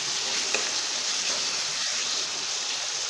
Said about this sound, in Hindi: मसाला मिक्स कर लिया है, टमाटर भी हमारे गल गए हैं, मसाला भी देखे पक रहा है।